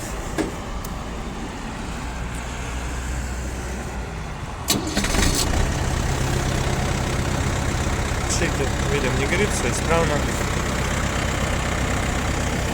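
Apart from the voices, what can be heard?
Yanmar FX335 four-cylinder mini tractor engine running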